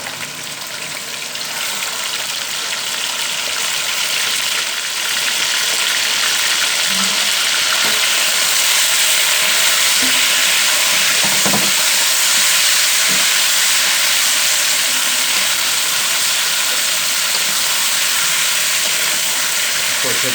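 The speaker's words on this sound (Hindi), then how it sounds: "अब इसमें डालेंगे चिकन।" Chicken hits browned ginger and garlic in hot oil and fries with a loud continuous hiss and sizzle, with occasional soft clinks of utensils throughout.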